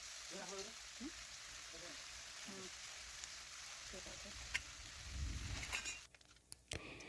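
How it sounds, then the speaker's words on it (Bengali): Small fish frying in hot oil in a wok for a tamarind sour dish: a faint, steady crackling sizzle with a soft voice murmuring early on and a few clinks near the end. "এক পাশ ভাজা হওয়া পর্যন্ত আমি কিছুক্ষণ অপেক্ষা করব"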